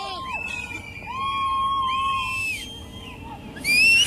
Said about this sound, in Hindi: ये चीखपुकार जो है वो आपको बयान कर रही होगी कि किस तरीके से वहाँ पर अफरा तफरी का माहौल इस बादल फटने के बाद पैदा हो गया